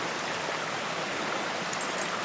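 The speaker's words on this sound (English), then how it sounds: "This is a waterfall." Small waterfall on a snowy hiking trail: a steady, hissing rush of falling water, moderately close and unbroken, with a faint brief chirp near the end and no voices.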